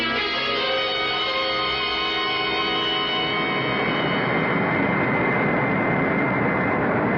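Airplane in flight as a radio drama effect, a loud, steady engine roar that runs continuously throughout with no break and no voices.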